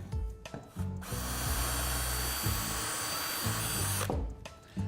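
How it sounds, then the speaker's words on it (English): A close power drill runs continuously for several seconds, its motor pitch sagging at moments as the bit drills right through wood, then stops abruptly. "Drill right through."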